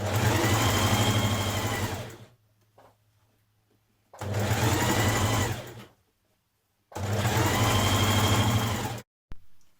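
A sewing machine running a stretch stitch along a dress sleeve seam with a 1.5 cm allowance, three close, loud bursts of fast whirring stitching separated by pauses.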